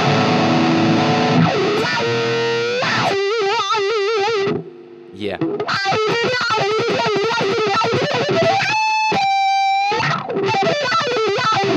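Electric guitar riffs through heavy distortion and a sweeping wah effect from a Danelectro Dan-O-Wah pedal, loud and close, with a brief pause and a single spoken word.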